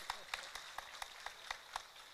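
Scattered, hesitant hand claps from an audience at a Ramadan religious lecture, about eight sparse, evenly spaced claps over a couple of seconds, faint and thin rather than a full ovation.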